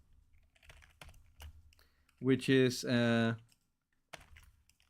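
Light, scattered computer keyboard typing, soft clicky taps in short bursts before and after a brief stretch where someone speaks, fairly quiet and close.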